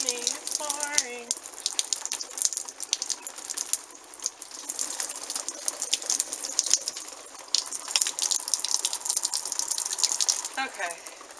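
Water pours from a heavy watering can onto a rain hat coated with odicoat on a doorstep, making a steady broadband splashing hiss that runs for most of the stretch, with a brief voice near the start and end.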